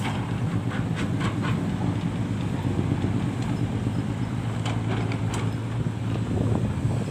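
A Sany SY215 excavator working on an earthworks site, giving a steady, loud low engine rumble that continues throughout, mixed with gusty wind buffeting the microphone and no voices.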